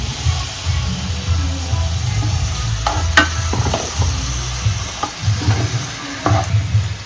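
A ground masala paste fries in a pan for a beetroot and dry fish curry, sizzling loudly and close. Intermittent stirring scrapes and taps come over the steady frying, with no voices.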